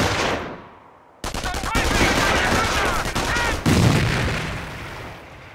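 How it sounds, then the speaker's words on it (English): Battle sounds from the Company of Heroes video game as a grenade is thrown at a machine gun team: a sudden loud blast followed by dense, sustained bursts of gunfire and a heavy boom, with faint voice under the din. "Let's throw a grenade to destroy the machine gun team."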